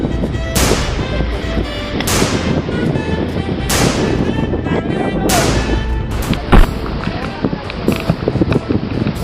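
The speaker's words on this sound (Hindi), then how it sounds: "देखो वहां पर फायरिंग कर रहा है।" Gunfire in a comedic Indian Army skit: several sharp broadband bangs ring out at roughly regular intervals over a steady rumbling background, fairly loud and close.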